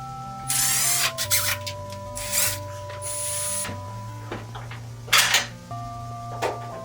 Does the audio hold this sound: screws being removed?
yes